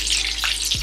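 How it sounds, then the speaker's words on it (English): Pierogi sizzle steadily in a frying pan, a bright continuous crackle with a soft scrape near the end. "hear that sizzle"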